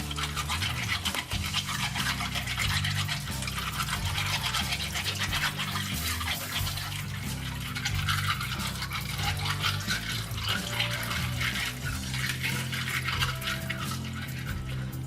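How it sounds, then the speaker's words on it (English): Shells are rinsed under a kitchen tap while breakfast is prepared, giving a steady, close rush of running water with continual splashing and rattling as the shells are moved about. "After that, rinse the shells well again."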